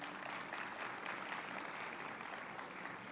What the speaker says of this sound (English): So I would like you all to applaud the institution for all their efforts.